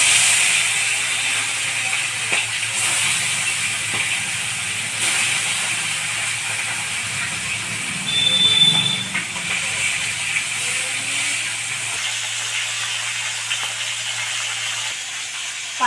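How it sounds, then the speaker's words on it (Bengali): Parshe fish frying in hot oil for a spicy fish jhal: a steady, fairly loud broadband hiss of sizzling that runs unbroken throughout, over a low constant hum. "এবার আমি মাছগুলোকে ছেড়ে দেব।"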